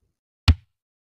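A single kick drum hit on a real drum kit, a short, deep thump that is isolated in silence and dies away quickly.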